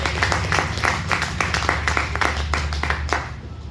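An audience at an open seminar in Batote claps in a steady, dense burst of applause, many hands close and loud throughout, easing slightly toward the end.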